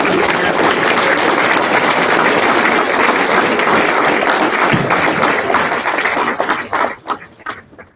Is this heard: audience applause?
yes